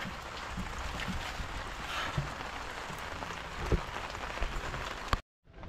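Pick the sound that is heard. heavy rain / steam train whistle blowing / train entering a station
heavy rain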